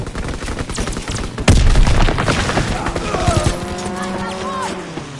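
Enemy strafing run in Call of Duty WW2, a sudden loud burst of rapid gunfire and impacts crashing in over the battlefield din, followed by rumbling chaos and a rising whine.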